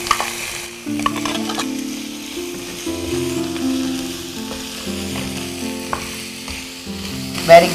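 Boneless chicken fries in a pan with garam masala, cardamom and cinnamon, giving a continuous sizzle with stirring throughout and no one talking.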